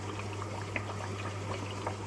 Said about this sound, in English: and then what we can do is fill that up with water